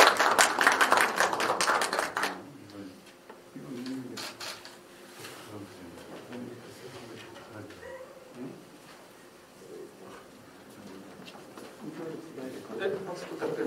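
Brief burst of applause at a regular meeting of the Mapo-gu, Seoul council of the Peaceful Unification Advisory Council, fading after about two seconds into a speaker talking and quiet room noise.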